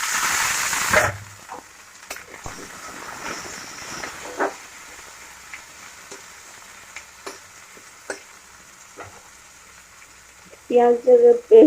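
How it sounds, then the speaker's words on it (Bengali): Soft, faint sizzling of onions and tomatoes frying in a pan, with scattered clicks and stirring scrapes, before a voice speaks briefly at the end. "টমেটোটাকেও ভালো করে ভেজে নেবো একটুখানি।"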